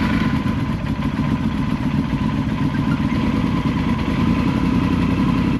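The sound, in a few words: motorcycle engine starting and idling at high altitude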